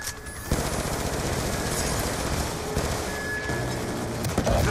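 Gunfire in the Call of Duty Black Ops 2 campaign rattles as dense, continuous automatic fire with overlapping shots and booms. It is loud and steady throughout, and one sharper burst comes near the end.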